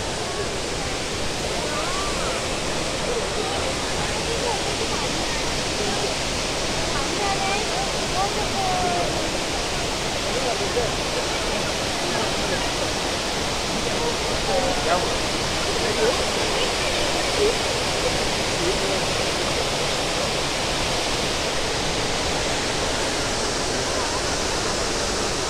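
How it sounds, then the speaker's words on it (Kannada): Abbi Falls waterfall on the route to Kukke Subramanya, a steady, loud, unbroken roar of falling water close by, its broad wash constant throughout with a crowd present at the spot. "ಇಲ್ಲಿ ನೋಡ್ತಾ ಇದ್ದೀರಾ ಅಬ್ಬಿ ಫಾಲ್ಸ್."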